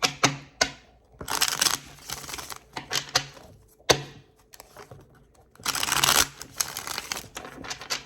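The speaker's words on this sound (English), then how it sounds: "I don't know why I want to shuffle so goddamn much" Cards being shuffled nearby: crisp riffling bursts and sharp taps alternate with brief pauses, including a long, rapid riffle toward the end.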